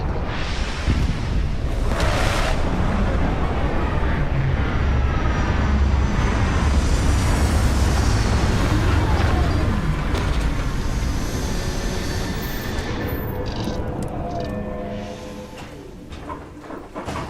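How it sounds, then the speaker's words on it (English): Spaceship landing in Starfield: a loud sustained roar of engines and rushing thrust that holds steady, then gradually fades near the end, with faint mechanical clicks at the close and no talk. "Beginning landing cycle"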